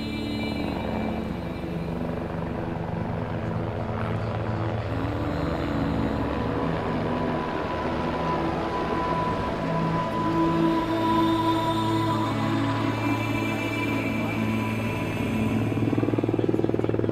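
A helicopter carries building parts through the air to a mountain hut under construction, its steady rotor and engine drone filling the whole stretch loudly and continuously, with no voices.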